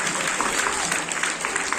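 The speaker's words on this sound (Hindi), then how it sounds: "जोरदार तालियों से इसका" Applause from an audience at a painting competition prize-giving for World Water Day, a dense and fairly even patter of clapping heard at moderate distance for the whole stretch.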